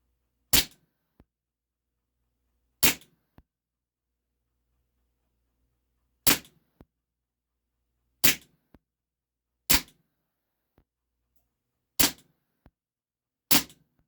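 Taurus PT 24/7 G2 airsoft blowback pistol firing 0.25 gram BBs at a target, seven sharp isolated cracks spaced a few seconds apart, each followed by a faint tick of the BB striking.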